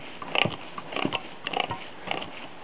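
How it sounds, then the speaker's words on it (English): Rough grinding from worn differential spider gears comes in three or four short scraping bursts, close and moderately loud, with no voices. "So that grinding sound you're hearing was the noise"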